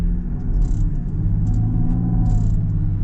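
A 2025 Land Rover Defender 110 D350 engine holds at half throttle while the wheels spin on slippery ground, producing a steady, loud, low rumble with no clear change in pitch.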